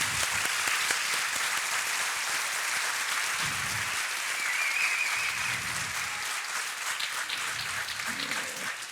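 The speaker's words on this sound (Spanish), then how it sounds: "Quiero pedir un aplauso para Giovanna, que no quiso aparecer." Audience at a book fair talk in Valparaíso applauds steadily for about nine seconds, a dense, even clapping that stays loud throughout with faint murmurs of voices underneath.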